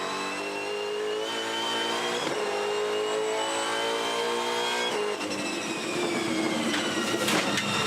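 Onboard a Supercars race car driven by Will Davison on a wet track, the engine roars loud and close throughout, revving up and down through gear changes with a sharp shift near the middle and continuous spray and road noise.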